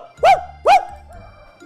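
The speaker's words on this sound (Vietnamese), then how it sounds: "chó sủa thôi mà anh, chó sủa thôi mà" Dog in the horror video game Devour, two sharp barks in quick succession, fairly close, followed by low rumbling ambience.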